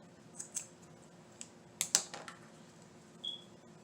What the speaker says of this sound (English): Now just cut the string off.